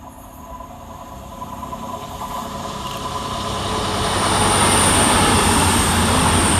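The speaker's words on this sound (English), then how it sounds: "making an appearance across country is 221127, working 1 Victor 60 from Aberdeen to Plymouth" A CrossCountry Class 221 diesel train, unit 221127, passing through Edinburgh Gateway station, its engine roar and rail rumble building steadily louder to a sustained close pass, with no talk.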